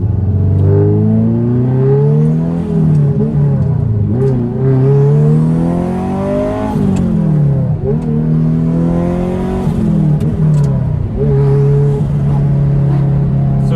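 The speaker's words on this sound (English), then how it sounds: "This car rips. You get to hear that lovely gated manual gearbox." A turbocharged 1988 Ferrari Mondial Coupe with a gated manual gearbox drives hard, its engine loud and close as it revs up repeatedly through the gears, with brief dips at each shift and no talking.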